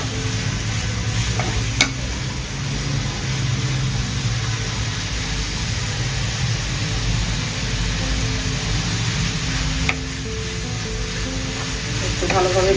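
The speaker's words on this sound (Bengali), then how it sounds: "হালকা অল্প পরিমাণে একটু ঘি দিয়ে তাতে কিমাটা তৈরি করবো।" Minced meat cooking in a little ghee in a pan, a steady sizzle with stirring scrapes throughout, a few sharper clinks near the start and toward the end, no talking.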